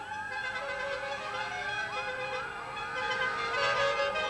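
Sirens wail in a 1984 charity convoy of Salford taxis heading to Southport. A repeating rising and falling siren sounds at moderate distance, steady throughout with no talking.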